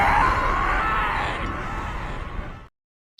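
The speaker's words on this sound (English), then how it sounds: "I'm going to play that scream whenever I can." A Star Wars recording of Darth Maul screaming plays back as one long, loud, raw yell that slowly weakens and then cuts off abruptly into silence.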